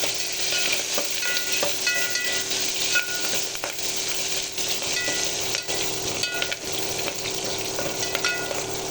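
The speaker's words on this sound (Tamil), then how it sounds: "கருவேப்பிலை, காஞ்ச மிளகாய் போட்டுங்க" Curry leaves, dried chillies and asafoetida sizzle and crackle in hot oil, a steady bright frying hiss with scattered pops and stirring scrapes, close and loud without any talk.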